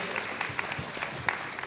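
Audience applause at an African political leadership and governance panel, a brief patter of clapping at moderate level with scattered sharper claps, no speech over it.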